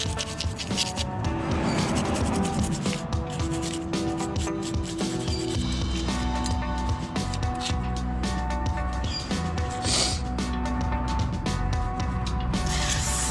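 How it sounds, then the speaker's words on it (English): Harsh, continuous scrubbing of a wire brush against a brake caliper plate soaked in brake cleaner, close and loud with rapid back-and-forth strokes and no pauses. "taking either a soft metal brush, like a wire brush, or a nylon brush, taking to it with some brake cleaner"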